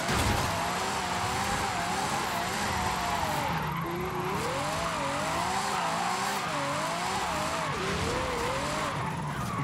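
A Ferrari in Forza Horizon 5 drifting sideways, with continuous loud tire squeal over a wavering, revving engine note that rises and falls as the car slides.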